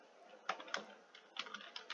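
Computer keyboard keys clack in short bursts of quiet, close typing, a handful of light taps with brief pauses between them.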